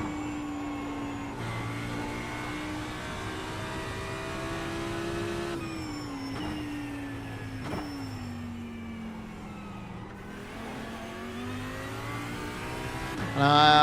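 Classic Audi race car engine in the iRacing simulator, a steady mid-pitched drone holding revs with gear changes and shifting pitch, heard alone and fairly quiet throughout.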